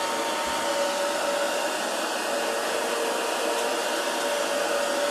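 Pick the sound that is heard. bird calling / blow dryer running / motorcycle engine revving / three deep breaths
blow dryer running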